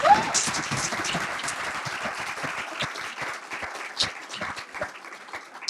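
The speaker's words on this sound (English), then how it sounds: "let's give her a nice big round of applause, everyone" An audience at a writing talk applauds a speaker, giving steady, dense clapping from many hands that fills the room and fades slightly toward the end.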